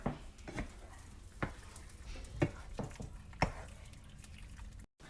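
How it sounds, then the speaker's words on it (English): Cheese being stirred into a shrimp alfredo sauce in a pan, with a few soft, sharp scrapes and taps of the utensil against the pan over a low, steady cooking hiss; no one talks. "Stirring until the cheese melts and thickens up the sauce."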